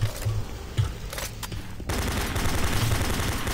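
Gunfire at spiders and imps in Doom 3, a few scattered thuds and low rumbles followed by a sustained, dense roar of weapon fire that stays loud to the end.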